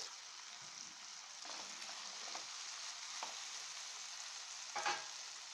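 Capsicum pieces frying in a pan for a Telugu capsicum masala curry, a steady soft hiss running throughout with a few faint stirring scrapes and one louder clatter near the end.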